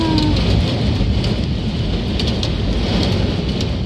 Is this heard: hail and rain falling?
yes